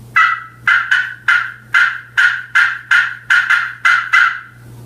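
A turkey call yelps in imitation of a hen, sounding about ten evenly spaced, sharp rasping notes in a steady rhythm, loud and close with nothing else heard.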